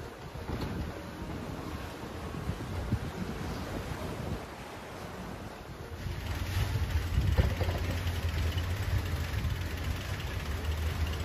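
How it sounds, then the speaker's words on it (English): Steady wind roars across the microphone on a sailboat heading to Martinique, with ocean surf and waves rising and thickening midway through as the breeze picks up. "The wind is finally starting to pick up"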